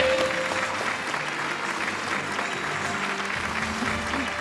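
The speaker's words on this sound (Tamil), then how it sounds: "ஒரு மிகப்பெரிய கைத்தட்டல் கொடுத்துடலாம் கோச் ராஜி அவர்களுக்கு" A large auditorium audience applauds Coach Raji at an emotional award event, a steady, even wash of clapping throughout, somewhat distant, with faint voices mixed in.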